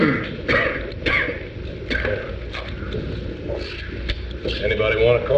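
During a live 1954 television drama, a man clears his throat and coughs several times in short bursts, mixed with people talking in a room.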